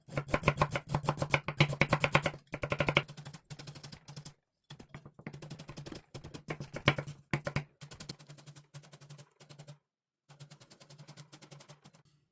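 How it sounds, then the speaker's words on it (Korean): A knife chops ginger and garlic into thin strips on a board in rapid, close, steady bursts of crisp taps, broken by short pauses. "생강과 마늘은 가는 채로 썰어줄 거예요"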